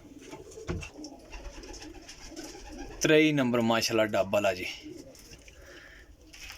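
Galwa pigeons coo softly in the background in a loft in Kotli, Azad Kashmir, low rolling calls repeating while someone speaks loudly over them for a moment.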